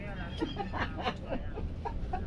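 A chicken clucks in short repeated bursts, close by, with a person talking over it and a steady low background rumble.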